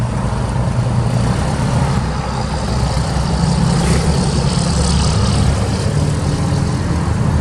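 A Yale GP050 forklift with 5,000 lb capacity and pneumatic tires runs in a steady, loud, low engine drone, close by and without talk.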